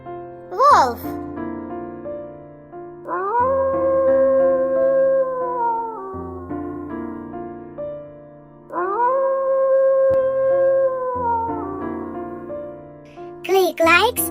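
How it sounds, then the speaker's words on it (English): A wolf howls in two long, sustained, gently gliding calls, clear and prominent, set against a low tonal music bed with brief higher chirps at the start and end. "Wolf."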